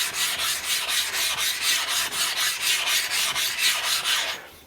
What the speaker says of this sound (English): You can hear how aggressive the stone is on the diamond coat.